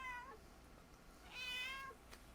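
Cat meowing twice indoors, two short faint meows with a brief pause between them, no talking.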